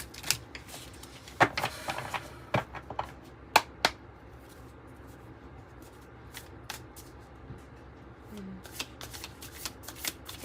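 Oracle cards being shuffled, a series of quick, crisp riffling bursts close by that grow sparser after the first few seconds, with soft handling noises between.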